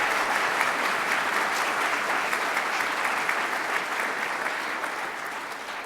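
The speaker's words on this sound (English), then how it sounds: "give one more round of applause to Jim Swartz" Sustained audience applause at a university launch event for the Swartz Center for Entrepreneurship, honoring donor Jim Swartz; dense, steady clapping from a large crowd fills the whole stretch, fading slightly toward the end.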